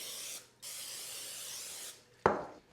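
Cooking spray greasing a 9-inch springform pan, two close hissing bursts split by a short pause, then a sharp clatter as the pan is set down.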